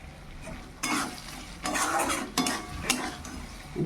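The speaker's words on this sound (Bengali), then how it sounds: "এখানে মাংসটা কষিয়ে নিচ্ছি অনেকটাই কষানো হয়ে গেছে" Small pieces of meat braising in a pan are stirred, giving several bursts of scraping and sizzling at close range over a steady low frying hiss, with no talking.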